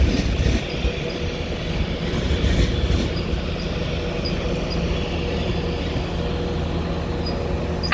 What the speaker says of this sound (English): as this 390 Pendolino heads into platform 5